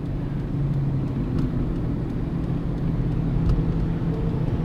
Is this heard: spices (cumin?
no